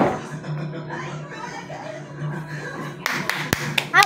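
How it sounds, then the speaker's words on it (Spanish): Short clapping from a family playing a flour game at home bursts out near the end, close and brief, after chatter and a bit of laughter. "¡Aplausos!"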